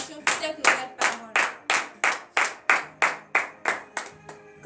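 A church congregation at a morning prayer service claps in a steady rhythm, about a dozen sharp, evenly spaced beats at close range with faint voices beneath.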